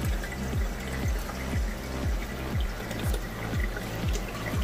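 Water pouring from two downpipes into a DIY 55 gallon aquarium sump, a steady splashing trickle with a regular gurgling pulse about every half second, close and continuous with no talk.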